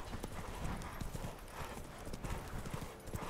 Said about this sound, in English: Roach is a dumb horse